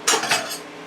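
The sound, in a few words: stirring roasting potatoes and tomatoes in pan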